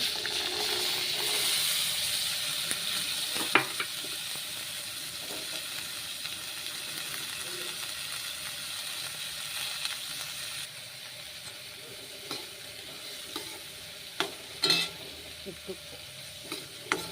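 Vegetables with green onion and coriander frying in butter, a soft continuous sizzle with occasional sharp scraping and stirring clicks from the pan, quieter in the second half.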